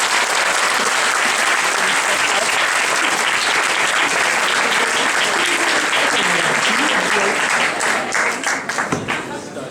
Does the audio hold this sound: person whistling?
no